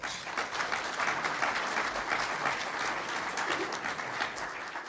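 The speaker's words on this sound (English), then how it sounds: "Let's give them a round of applause." Steady applause from a crowd at a city State of the City address, many hands clapping continuously at a moderate distance, fairly even throughout.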